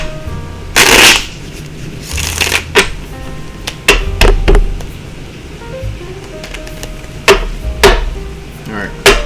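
A deck of tarot cards is shuffled close by, with loud riffling bursts and scattered sharp taps and slaps as cards are squared and placed, over a steady low background hum.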